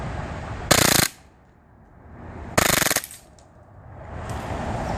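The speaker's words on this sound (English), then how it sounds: "Walther PPQ, full auto." An Umarex Walther PPQ gas blowback airsoft pistol fires two loud, rapid full-auto bursts, each under half a second, separated by quiet pauses.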